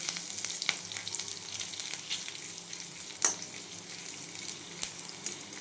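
Ginger and green chili frying in a kadai with a steady, moderate sizzle and occasional sharp clinks of stirring, no voices.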